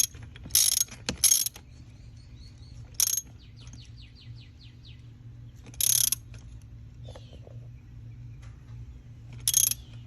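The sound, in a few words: socket wrench ratcheting a spark plug back in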